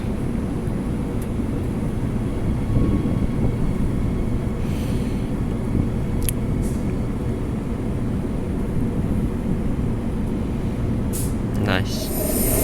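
A Mandurah line electric train pulls in at the Rockingham station platform in Western Australia. It makes a steady, close, rumbling roar with wind buffeting throughout, broken by a few brief squeals and clanks near the end.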